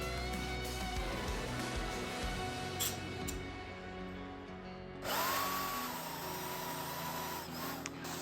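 A portable band saw cuts steel for a homemade bench vise, a steady close mechanical whine and grind that shifts to a louder, higher-pitched tone about halfway through, with no talking.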